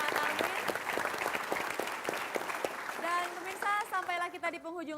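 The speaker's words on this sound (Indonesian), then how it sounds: "kita berikan tepuk tangan sekali lagi untuk para tamu kita" Studio audience applause for guests on an Indonesian TV parody show. Clapping is strong at first, then thins out as a voice and music take over toward the end.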